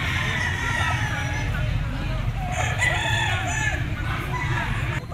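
A bullstag gamecock of sweater bloodline crows among other fowl at a busy poultry market, the crowing rising over a steady crowd murmur and clucking, with someone talking nearby.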